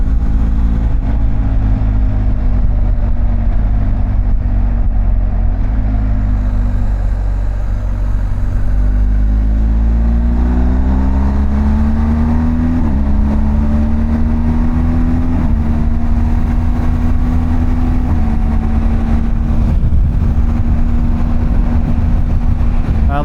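BMW R1250 GS motorcycle accelerating onto a highway: a close, steady engine drone climbs in pitch through several gear changes over constant wind rush.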